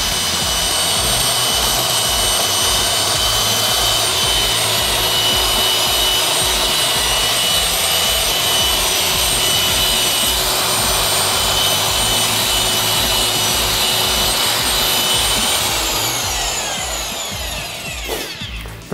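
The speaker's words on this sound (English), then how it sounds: "Very important when mixing grout to use a low speed mixer, such as the one as I'm using here." A low-speed power mixer churns tile grout in a bucket during a tub and shower renovation, running loud and steady for about seventeen seconds before winding down near the end.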